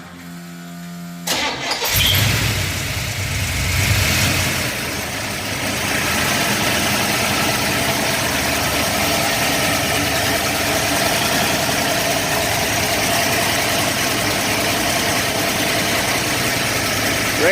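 A Pontiac 455 big-block V8 on pump gas with a dual four-barrel billet top cranks briefly, fires with a loud burst and settles into a steady, rumbling idle that continues alone and close.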